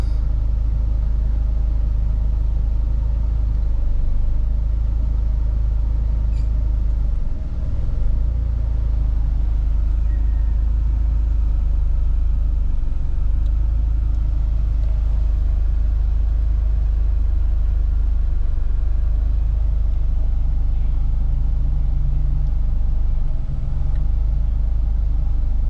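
A manual car's engine idles and runs with a steady, loud low rumble throughout, with occasional slight dips, heard from inside the car while a child learns to drive.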